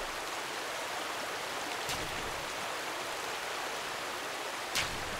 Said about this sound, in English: The water's just really loud.